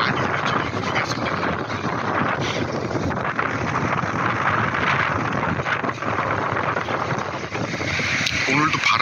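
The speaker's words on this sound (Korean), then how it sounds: "오늘도 바람이 무지무지 셉니다." Strong wind in Okinawa roars steadily and loudly, buffeting the microphone with constant low rumble and gusty noise throughout, no clear talk above it.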